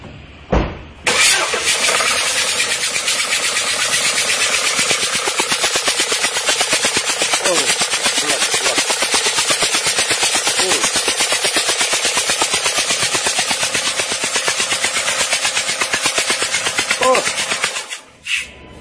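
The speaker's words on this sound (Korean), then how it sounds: "시동 한번 걸어봐봐." A 2017 Kia Sportage diesel starts and idles close by, with a loud, steady rapid ticking clatter from an injector fault throughout before shutting off near the end.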